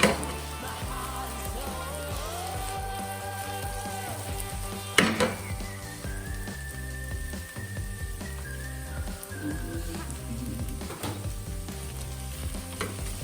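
Leafy greens sizzle and fry steadily in a hot pan as they wilt, with a constant crackling hiss, occasional stirring clatter and one sharp knock around the middle, no talking.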